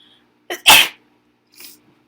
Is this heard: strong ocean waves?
no